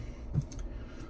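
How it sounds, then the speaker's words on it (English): An Instant Pot pressure cooker gives a single soft click partway through as it engages, faint and close in a quiet kitchen. "the Instant Pot itself is going to click over and engage"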